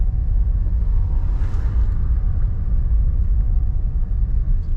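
An auction-bought Sonic car drives through a neighborhood with a steady, low engine and road rumble from inside the cabin, constant in level with no talking.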